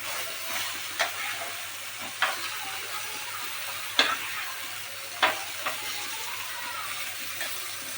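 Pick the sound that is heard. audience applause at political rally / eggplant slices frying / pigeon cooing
eggplant slices frying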